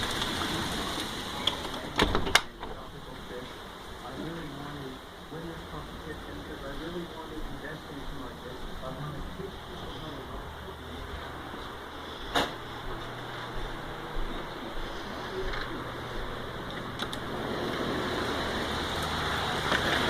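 Storm rain and wind hiss steadily outdoors as a loud, continuous wash, broken by a few sharp knocks and thumps, with a voice speaking faintly now and then.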